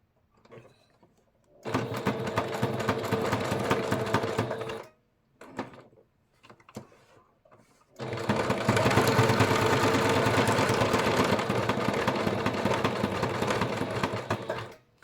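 A home sewing machine set to zigzag stitches fabric on a small card table, giving a steady, close mechanical whir in two long runs separated by short stops and a few clicks.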